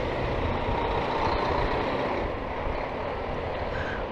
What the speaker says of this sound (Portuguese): É, caminhões, caminhões.